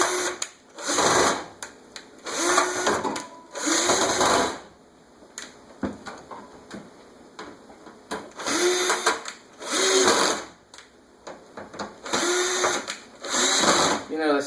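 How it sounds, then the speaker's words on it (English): A power drill whirs and rattles in repeated bursts while freeing stuck bearings on an Air King 20-inch box fan, starting and stopping every second or two, with brief quieter gaps between runs. "the drill is still rattling"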